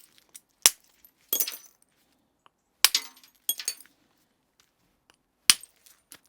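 Sharp percussive knocks from a small antler hammer striking flint while knapping a handaxe come in small clusters, some single and some in quick doubles, with quiet gaps between. They sound close, crisp and bright.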